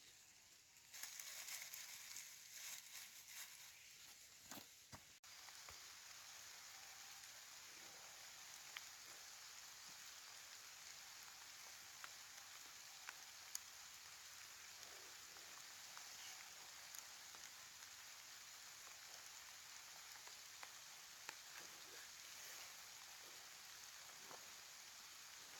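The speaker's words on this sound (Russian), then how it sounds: "Смотрите, у нас тут дождик собирается, уже идет." Rain falls in a forest, a steady, fairly faint hiss of drops on leaves and ground with scattered sharper patters, continuing without speech throughout.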